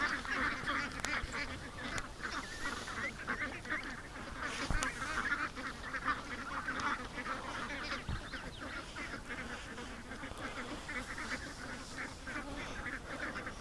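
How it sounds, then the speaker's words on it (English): Quacking and honking from a crowd of ducks at a rainy lake carries on without pause, a thick overlapping chorus at moderate distance, punctuated by a couple of sharp clicks. "Come on, ducks!"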